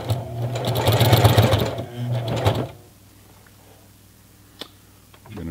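A Singer Heavy Duty sewing machine stitches through denim jeans in one loud, fast, dense burst lasting a few seconds, then stops. Afterwards only faint clicks and handling are heard.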